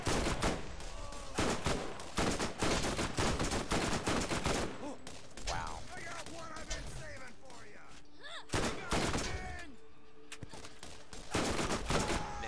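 Repeated gunshots ring out in the Borderlands video game, bursts of loud sharp cracks in quick succession with short pauses, mixed with game effects and someone talking.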